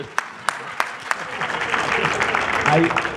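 Scattered claps opening into a short burst of audience applause that swells and fills the room, with a faint voice beneath it.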